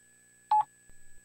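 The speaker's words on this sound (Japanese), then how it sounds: "机に置いてあった携帯が着信音を奏でる" A mobile phone on a desk rings in a Japanese mystery adventure game: one short, bright two-part electronic tone, then a faint run of quick pulses, with no voices.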